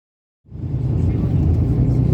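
Airport transfer bus at a large airport pulling away toward a parked plane, a low engine rumble starting abruptly and holding steady and fairly loud with road noise.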